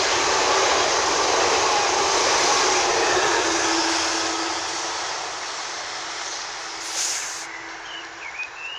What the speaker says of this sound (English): Passing service to Horsham, formed of